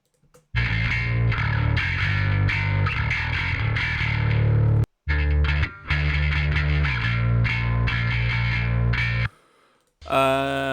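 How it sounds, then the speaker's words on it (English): A heavily distorted bass guitar, played with a pick, plays alone, loud and gritty, in steady picked phrases with a couple of brief pauses. "So the bass guitar on its own sounds like this."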